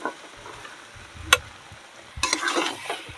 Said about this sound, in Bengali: এবার আমি মটরগুলো ঢেলে দেব।